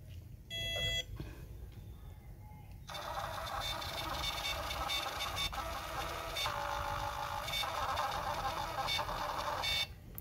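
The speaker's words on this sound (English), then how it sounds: "the test page has been arriving and its print quality is also quite impressive" A 2 inch Bluetooth mobile printer runs its self-test page, opening with a couple of short electronic beeps, then a long continuous whirring buzz of the print mechanism feeding paper, faint and close, with no speech.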